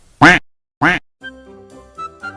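Two loud, sharp duck quacks sound close by in quick succession, followed by a soft musical melody.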